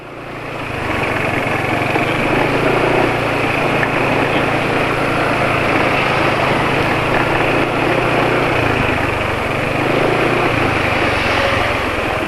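A car engine idles steadily after an oil change to Mesran B40 engine oil with added G1000 additive, giving a loud, continuous drone with a constant hum that holds unchanged throughout.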